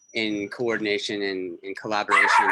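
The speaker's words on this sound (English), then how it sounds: "Sorry, that's the dog." A dog barks and yips in short repeated bursts close by, woven through a man's ongoing speech over the space of a few seconds.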